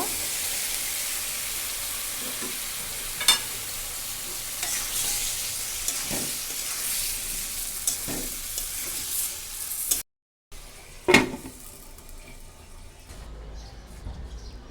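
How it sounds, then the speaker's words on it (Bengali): Radish and puti fish cook in a pan with spices, giving a steady close sizzle with a few sharp stirring clinks, a brief dropout near the end, and no talking. "দিচ্ছি মূলা মূলা দিয়ে পুঁটি মাছ রান্না করব"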